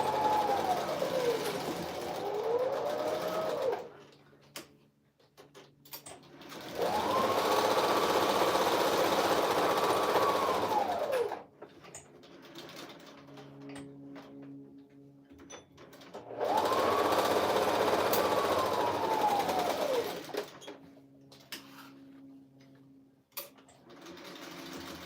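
A sewing machine stitches a kitchen towel in three long, steady whirring runs separated by quiet pauses, the motor humming evenly at close range.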